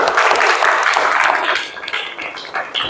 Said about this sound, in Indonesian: Boleh dikasih aplaus sekali lagi